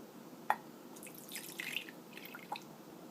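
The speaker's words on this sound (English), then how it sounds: "Now we add water until it fills to 1/4 cup." Water drips and trickles into a microwave-safe Pyrex measuring cup, a few quiet, sharp plinks spaced over a couple of seconds with no talking.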